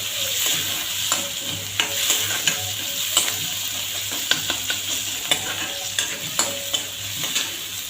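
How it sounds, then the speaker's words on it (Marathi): Tomatoes sizzle and fry in a pan for veg paneer bhurji, with a steady close hiss and regular scrapes and taps of a spoon stirring through the mix. "आणि टमॅटो सुद्धा चांगले भाजून घ्यायचे."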